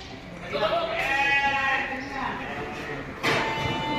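Sheep and goats bleat at the crowded Deonar livestock market during a Friday bakra mandi, with a few wavering cries over a constant murmur of voices and pen noise.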